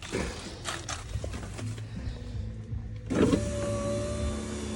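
Power windows on a Jeep WJ Grand Cherokee rolling up with the engine off: a steady electric motor whine, a brief pause, then a second louder, strained run with rising hum, close-up and alone.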